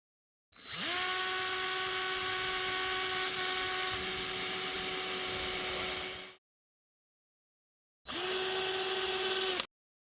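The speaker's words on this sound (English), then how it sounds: "we pre-drilled and countersunk the holes" A power drill whines steadily through wood while pre-drilling and countersinking screw holes for a raised wooden tomato planter, one long sustained run followed by a shorter second burst, close and clear with silence between.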